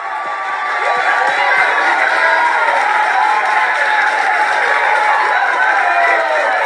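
A church congregation applauding and cheering during a fasting and prayer service, a loud sustained wash of clapping and voices that swells in after a moment and stays full throughout.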